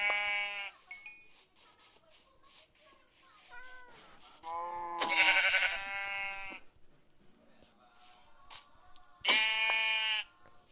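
Sheep in a Minecraft-style video game bleating as it is struck and killed: three loud, wavering bleats spread across the stretch, with quieter game noises in between.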